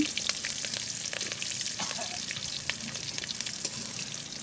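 Green chillies and bay leaves fry in hot oil in a pan with a steady, soft sizzle and crackle, punctuated by small pops and faint stirring clinks.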